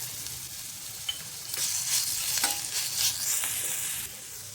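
Ginger-garlic paste sautéing in a pan for vada pav filling, a steady close sizzle that swells after a short quiet start, with a few faint stirring scrapes.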